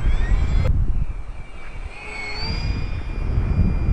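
A Durafly HondaJet RC model plane with a PT-6A turbine conversion flies past with a steady rushing turbine whine, fairly loud and continuous against outdoor wind noise, with no talking.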